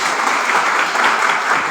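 Loud, dense applause from a seminar audience runs steadily throughout, a continuous close wash of clapping with no gaps.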